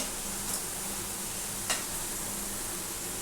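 Chicken kebab pieces fry over a lowered gas flame in a pan, a soft steady sizzle with a couple of faint ticks.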